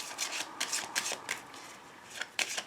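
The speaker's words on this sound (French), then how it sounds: "Je vais prendre maintenant 2 petites cartes avec l'oracle des amoureux pour terminer mon tirage." Oracle cards for a love reading being shuffled by hand, a continuous papery riffle and rub of cards in quick irregular bursts, close and fairly soft, with no talking.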